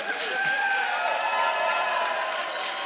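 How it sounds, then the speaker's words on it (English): Crowd at a FIRST robotics district event in Houston cheering for the volunteer of the year, a swell of shouted whoops and voices with some clapping, moderately loud in a large hall. "Let's hear a woohoo."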